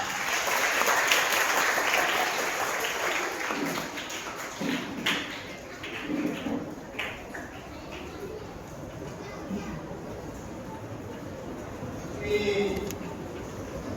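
An outdoor audience at a seed ball tree-planting event bursts into loud applause, a dense clapping wash at the start that thins into scattered claps and fades, with faint talk behind.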